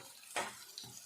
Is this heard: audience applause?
no